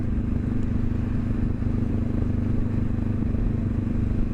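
Honda CB500F motorcycle engine running steadily while riding, a close, continuous low drone with a constant hum and some wind rumble, no voices.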